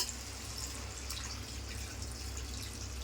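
Water pours steadily from a metal pot in a continuous splashing stream, close by, with no voices.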